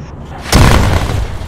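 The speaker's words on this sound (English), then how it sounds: "Explosion right side of the road!" A sudden heavy explosion bursts beside a road in the military game ArmA 3, a loud booming blast that keeps rumbling and roaring for about a second afterward.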